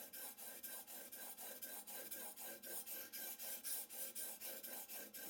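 A cheap bench plane blade is rubbed back and forth across a 220 grit whetstone, a rapid, even run of raspy gritty strokes, close and quiet, with no talking.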